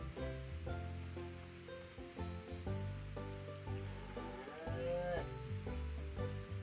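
A cow moos in the farming video game Harvest Life, with several drawn-out, tonal lowing calls up close over a constant wash of game ambience resembling surf.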